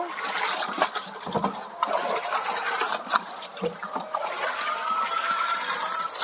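Rena-C vitamin C powder being mixed into water for chickens, with continuous sloshing and swirling of liquid, fairly loud and close, broken by a few brief knocks of the container.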